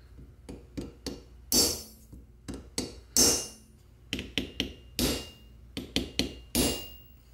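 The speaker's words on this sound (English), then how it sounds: "to pound them into shape, I'm going to use a brass hammer" Brass hammer striking the steel jaws of a Starrett 120 caliper to pound them back into shape: about a dozen sharp, close metallic blows in irregular groups, some ringing briefly, with no talking.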